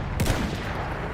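Gunfire in the World War I shooter Battlefield 1, with one sharp close shot followed by dense, continuous battle noise and distant firing rumbling on.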